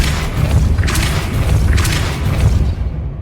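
Depulso force spell blasts in Hogwarts Legacy, two loud booming whooshes about a second apart over a heavy low rumble of game sound, fading at the end.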